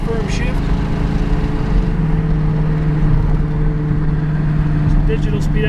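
A 1967 Ford Mustang driving just after a firm first-to-second gear shift, its engine a steady loud drone with road and wind noise, running evenly without clear revving changes.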